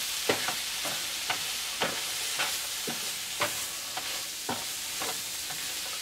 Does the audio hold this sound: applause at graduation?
no